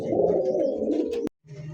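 Domestic red checker pigeons of the kolsi-neck rasgolla type coo in a low, rolling, close-up murmur that cuts off abruptly, then resumes softly after a short silence.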